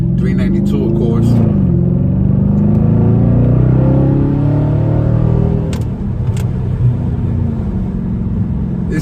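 A 2020 Dodge Charger Scat Pack widebody with its 392 engine drives along, giving a loud, deep, steady exhaust drone that swells and settles with light throttle, while a voice talks over it.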